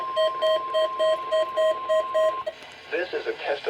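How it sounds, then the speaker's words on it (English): Weather radio warning alarm from the National Weather Service during a required weekly test: a loud, steady two-tone beeping in regular pulses, then it stops and a voice begins speaking. "This is a test of the National Weather Service weather radio warning alarm"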